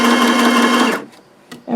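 A sewing machine runs a straight stitch on baby book pages, giving a close, loud, steady buzzing hum for about a second before stopping, then a short click and a brief restart.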